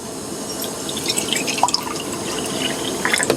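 Water trickles and drips steadily into a French press inside a van, a close, continuous liquid pour with small splashes and no talking.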